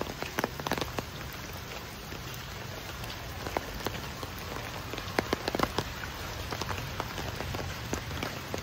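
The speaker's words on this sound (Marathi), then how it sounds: "पाऊस चालू आहे" Heavy rain pouring down in an orchard, a continuous roar of patter with many sharp individual drops striking nearby surfaces, steady and close, with no one talking.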